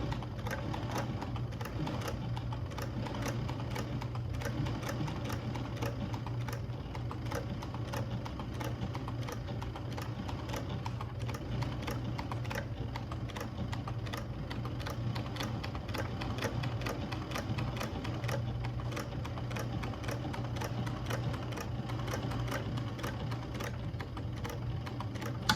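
An industrial sewing machine stitches a shoe upper, producing a continuous fast mechanical clatter with a steady low hum that runs evenly throughout at a moderate, close level.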